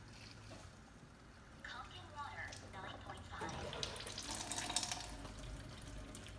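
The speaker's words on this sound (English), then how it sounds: "I'm gonna fill this with water," Water from the long hose of a Kangen K8 water ionizer machine runs into a container, a soft indoor splashing and trickling that swells gradually louder, with faint background noise and brief bits of talk.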